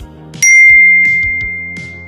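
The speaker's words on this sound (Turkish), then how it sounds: "Telefonuma bildirim geldi." A phone notification chime sounds one bright ding that rings out and decays, over a low steady hum with faint clinks.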